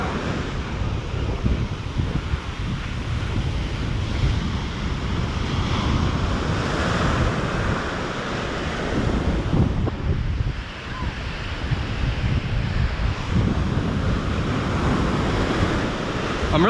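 Steady roar of ocean surf breaking on a beach during surf fishing, loud and continuous with rolling swells and heavy wind buffeting the microphone throughout.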